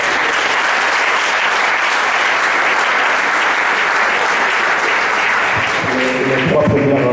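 A church congregation claps loudly and continuously, dense applause filling the room throughout, with a voice speaking over it near the end.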